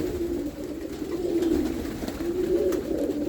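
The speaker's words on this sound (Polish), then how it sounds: "Różne gołębie." Steady, overlapping low cooing from several pigeons, a continuous throaty murmur with no talking.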